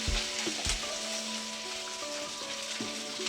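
Dried red chillies fry in oil in a pan with a continuous crackling hiss, broken by a couple of short clattering knocks near the start.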